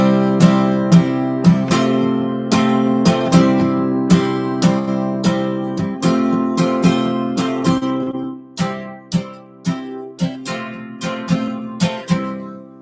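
Acoustic guitar in open D tuning plays a practice exercise: rhythmic plucked notes and chords ring out and decay in steady repeating phrases, close and clear, alone without speech.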